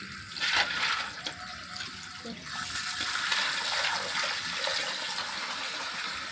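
Freshly caught river crabs from the Bhavani River in Attappadi are rinsed under steady, fairly loud running and splashing water that continues throughout without any talk.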